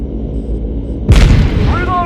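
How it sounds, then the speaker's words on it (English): A 105mm howitzer fires in a video game, one heavy booming blast that rolls into a long rumbling tail after a steady low hum, with a faint whistling tone near the end. "you're gonna do that with the 105mm howitzer"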